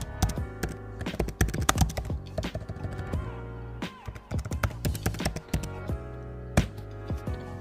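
Typing on a computer keyboard, close and clear, with quick irregular bursts of key clicks and short pauses between words, and no talking.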